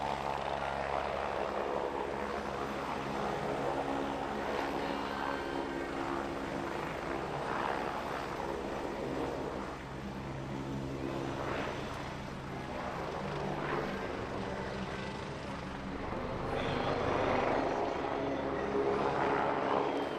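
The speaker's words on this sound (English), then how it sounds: "a very lengthy and rare roll demonstration by this Agusta A109E of the Latvia State Border Guard" An Agusta A109E helicopter of the Latvia State Border Guard performs a lengthy roll demonstration at the Wings Over Baltics 2018 airshow, its rotor and turbine roar loud and continuous, swelling and fading as it maneuvers.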